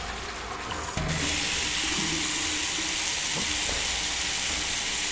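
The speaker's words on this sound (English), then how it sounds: "I hear the water, but I do not see the water." Steady running water from a tap in a bathroom in the video game Apex Construct, starting abruptly after a second and continuing as a loud, even broadband hiss.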